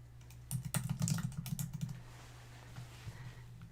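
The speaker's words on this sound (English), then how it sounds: "Oh, I can't type at all today." Quick bursts of typing on a computer keyboard, a dense run of soft clicks for about a second and a half, then a few scattered taps, close and fairly quiet.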